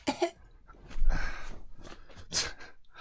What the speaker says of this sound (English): I'm still coughing up dust.